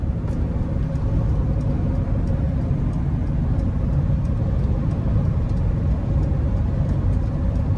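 A 2023 Sprinter high-roof conversion van with a turbo four-cylinder and a heavily loaded roof rack cruises along, filling the cabin with a steady, even low rumble of engine and road noise for the whole stretch, with no talking.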